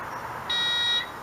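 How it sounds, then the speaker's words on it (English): A metal detector pinpointer probe gives a short electronic ding as it nears a set of keys, a single steady bright tone lasting about half a second, close and clear over faint background hiss. "when it finds the metal, it gives a little ding like that"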